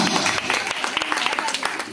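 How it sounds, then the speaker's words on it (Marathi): An audience at a Home Minister contest event in Kunkeshwar breaks into lively clapping, a dense patter of many hands with voices mixed in the crowd. "जोरदार टाळ्या मारा"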